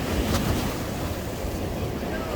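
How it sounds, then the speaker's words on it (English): Gentle waves roll onto the shore at Blackpool promenade near the North Pier, a steady close surf wash mixed with strong wind buffeting the microphone. "Lovely, gentle, soothing, rolling waves."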